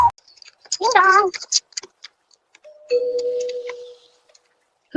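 A parrot imitates a doorbell's ding-dong, giving one loud warbling two-tone call, followed by a steadier whistled tone, with a few clicks and ticks between.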